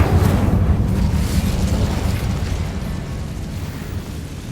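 An Incendio fire spell cast in the Hogwarts Legacy video game: a loud roaring burst of flame that starts at full strength and rumbles on, slowly fading over a few seconds, with no voices.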